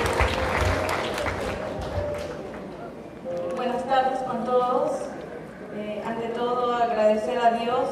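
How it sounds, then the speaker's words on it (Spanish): Wedding guests at a civil marriage ceremony applaud the bride in a steady patter that gives way to voices speaking over the room. "pido por favor un fuerte voto de aplausos"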